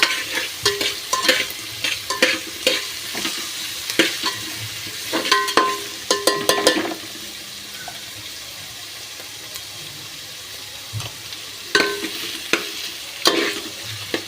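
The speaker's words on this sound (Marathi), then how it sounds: "छान असं फिरवून घ्यायचं आहे कांदा कढीपत्ता" Onion and curry leaves stirred in a frying pan for a homemade pulao, loud repeated scraping strokes over a constant sizzle, then a quieter stretch of plain frying before more stirring near the end, with no talk.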